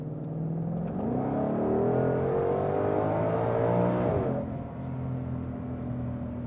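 A 2020 Shelby GT500 accelerates hard from close by, a loud rising engine roar climbing steadily for about four seconds before the revs drop off abruptly and the engine settles into a lower, steady drone.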